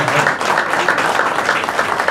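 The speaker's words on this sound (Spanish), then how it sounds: "Un aplauso para él porque es uno de los grandes que podemos tener el fin de semana" A crowd at a regional rally event applauds rally driver Juan Anoleto, a short, dense burst of clapping that fills the space evenly without pause.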